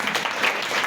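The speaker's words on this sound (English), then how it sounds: "so ladies, let's clap for the gentlemen." Women in an evening induction session audience clap for the men, giving a brief, dense burst of many hands clapping together at a steady level.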